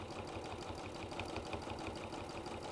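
A sewing machine runs a line of stitches, giving a quiet, fast, evenly pulsing mechanical whir with no pauses.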